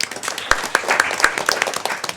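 Students clap for high school principals at a school event, sparse individual claps popping at a steady rhythm over a busy room murmur, moderately near and fairly loud.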